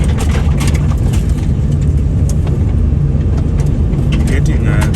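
A truck speeding along a dangerous road covered in loose chippings, its heavy engine a steady loud low rumble with road noise throughout, while a voice talks over it.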